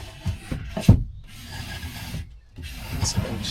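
A wooden slatted bed frame in a Ford Transit Custom van slides along its rails, giving close rubbing and rasping wood-on-wood sounds in two long strokes with a short pause between.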